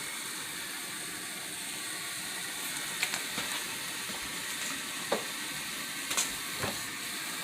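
Ground turkey cooking in olive oil with a soft, steady sizzle and hiss that runs throughout, punctuated by a few faint clicks of a utensil against the pan, with no talking.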